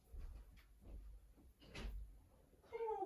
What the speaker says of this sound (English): Banging on the door like you pay the rent.